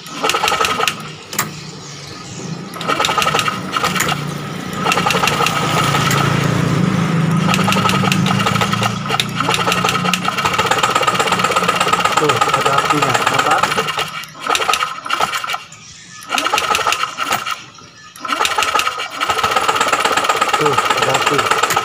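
A Honda Beat Street scooter with an ignition fault is cranked and started, giving a loud, continuous close engine drone that runs throughout with a few brief dips, while people talk nearby.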